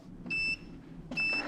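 An ice cream maker being switched on gives two close, bright electronic beeps, each held for about a quarter second and separated by a short pause, over faint room noise.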